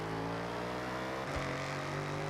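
A car accelerating in the Forza Horizon racing game, a steady engine drone held at high revs that briefly dips, like a gear change, before climbing again, heard alone with no talk.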